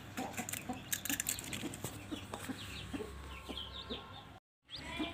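A white hen clucks repeatedly close by beside her newly hatched chicks, whose faint high peeping runs through. The sound cuts out briefly near the end.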